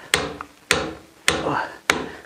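Hand hammering during work to widen a doorway: four loud, sharp blows at slow, even spacing, each ringing out briefly before the next.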